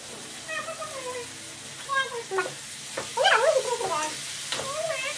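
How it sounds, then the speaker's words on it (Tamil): Tomatoes sauté in a pan with a little salt, giving a steady low sizzle and stirring scrapes beneath a person speaking at close range, with brief cat-like or playful vocal sounds mixed in. "அது வதக்குறப்ப லைட்டா உப்பு போட்டோம்னா சீக்கிரமா வதங்கும்."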